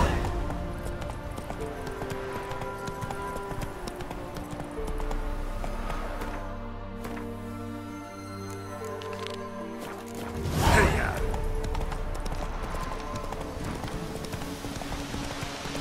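Horse galloping in a video game, rhythmic clip-clop hoofbeats running steadily under layered game music and ambience, with a whooshing swell near the end.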